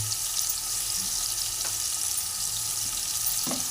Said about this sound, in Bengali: এর মধ্যে আমি কেটে রাখা লঙ্কাগুলো দিচ্ছি